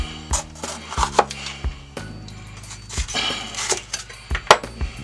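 A knife slices a bell pepper into julienne strips on a cutting board, giving a quick, uneven series of crisp close chops and board knocks with light clinks between.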